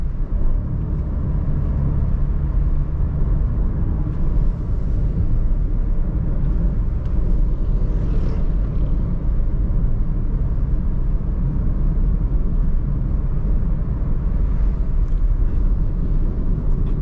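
A Suzuki Ertiga cruising in fifth gear on a road near the Ngawi–Sragen border, its steady engine drone and road rumble continuous and close from inside the cabin, with no voices.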